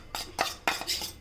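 A spoon clinks and scrapes around a bowl while aloe vera gel is stirred into cornflour, about four quick close strokes in a little over a second, with no speech.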